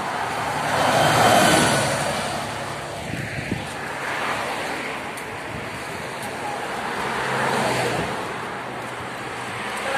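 Street traffic with a bus nearby, a broad steady roar of engines that swells and fades as vehicles pass, with a few brief knocks in between.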